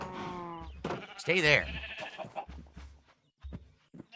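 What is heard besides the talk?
sheep bleating in the video game Minecraft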